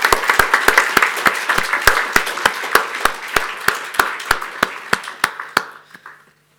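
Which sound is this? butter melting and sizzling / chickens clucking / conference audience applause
conference audience applause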